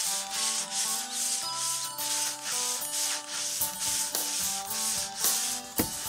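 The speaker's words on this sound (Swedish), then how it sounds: "När trätt är torrt slipar du terrassen." Rhythmic scraping of sanding on a wooden deck repeats in strokes roughly twice a second, close and steady, with no voices.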